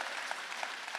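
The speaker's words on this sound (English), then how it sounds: "y'all give a round of applause" An interview audience gives a soft, distant round of applause. The clapping is brief and faint with no talk over it.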